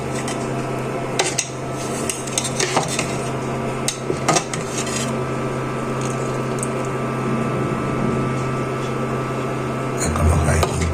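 A pot of rice pudding with date jaggery, bay leaf and raisins is stirred over a low flame. A spoon scrapes and clinks against the pot again and again over a steady hum of background noise.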